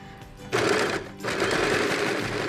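Close by, a sewing machine stitches the strap of a thermal baby-bottle holder, running in two loud bursts of rapid needle chatter split by a short pause.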